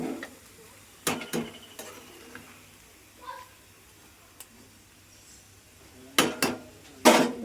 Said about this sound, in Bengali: এবার ঢাকা দিয়ে দিলাম।